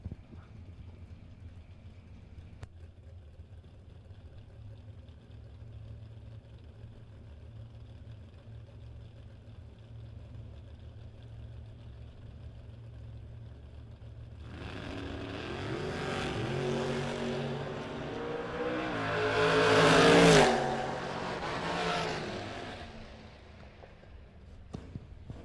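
A 1970 Nova and a 1988 Mustang at a drag race stand idling under a low steady engine drone, then launch with a loud roar that swells to a peak and fades down the track.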